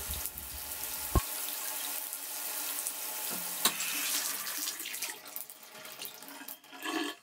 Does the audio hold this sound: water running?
yes